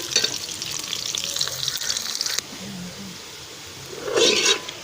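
Onions frying in a pan sizzle loudly while being stirred. Scraping strokes run through the first half, the sizzle then settles quieter, and a burst of stirring returns near the end, close up.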